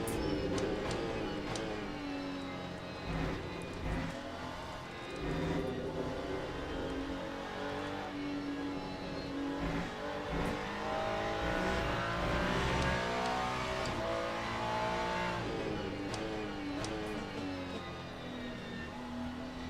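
An Aston Martin GT race car engine in the racing game Le Mans Ultimate, revving and shifting with rising and falling pitch sweeps, loud and steady throughout, with no talking.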